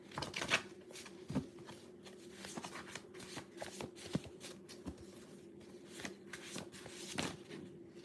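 Tarot message cards shuffled by hand at close range, a run of quick papery riffles and soft slaps spread over several seconds, fairly quiet with no talking.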